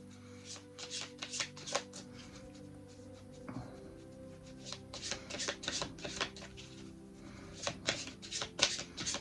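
Oracle cards are shuffled by hand in repeated quick riffles and rustling bursts, close and fairly quiet, with brief pauses between rounds.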